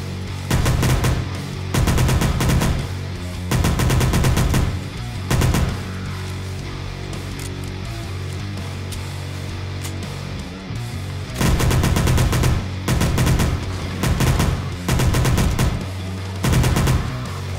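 Bursts of rapid .45 ACP automatic gunfire from the 7 Days To Die video game, loud and repeated in several separate volleys with brief pauses between them, over a steady droning background.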